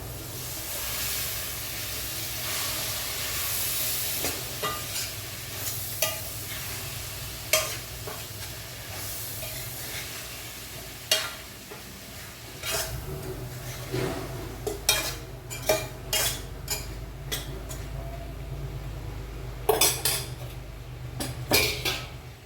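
Kidney beans for rajma curry are tipped into a hot pan and stirred, a steady sizzle underneath with repeated scraping and knocking of a spoon against the pan, growing busier toward the end.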